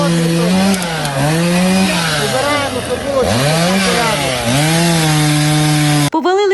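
Chainsaws cutting through fallen trees while a road is cleared, loud and close, the motor note rising and dipping repeatedly as the blade bites into wood, with a brief cut at the end.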